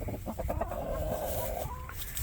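Two-year-old hens clucking and murmuring close by, a steady busy chatter of several birds with a low rumble underneath.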